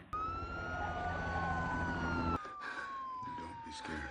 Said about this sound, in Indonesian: tiba-tiba terdengar suara sirine polisi dari luar rumah